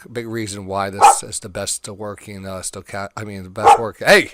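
Dogs brought into an office bark sharply a few times, loud and close, in short bursts breaking over someone talking.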